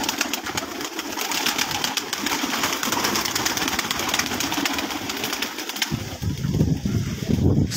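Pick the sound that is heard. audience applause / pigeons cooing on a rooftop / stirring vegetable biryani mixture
pigeons cooing on a rooftop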